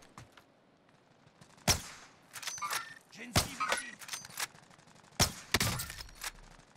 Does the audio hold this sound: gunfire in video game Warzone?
yes